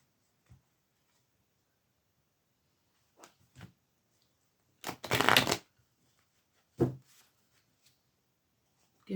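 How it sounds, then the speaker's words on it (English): Tarot cards being shuffled by hand in a few short, quiet bursts, with one longer, louder riffle in the middle and near silence between. "Give them a proper shuffle"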